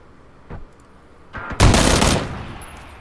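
Double-barrel shotgun fire in PUBG: a faint early shot, then one loud, close blast with a long decaying roar that fades over about half a second.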